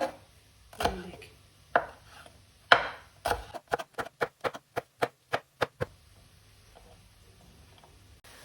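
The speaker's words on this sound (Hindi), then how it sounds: "ग्रीन चिली रेड चिली के ना बीच में से इस तरह कर लेंगे, फिर इसको हम इस तरह लंबा काटेंगे" A knife chops green and red chillies lengthwise on a board: a few scattered cuts, then a quick, even run of about a dozen crisp close taps, followed by quiet.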